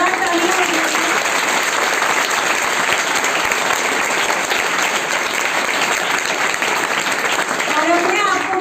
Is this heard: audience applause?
yes